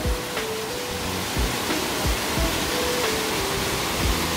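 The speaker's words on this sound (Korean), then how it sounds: "그 높이가 28m에서 떨어지는 희방폭포의 위용을 저와 함께 보시도록 하겠습니다." Heebang Waterfall on Sobaeksan, dropping 28 m at 700 m elevation, roars as a steady broadband wash of falling water, loud and continuous, close by with no talk over it.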